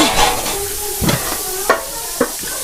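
Fish fries in a pan with a continuous close hiss and sizzle, while a few sharp scrapes or stirs of a spatula break through, loud and steady with no voices.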